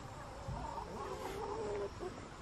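A farm chicken clucks in a short, faint burst of warbling calls against steady outdoor background noise.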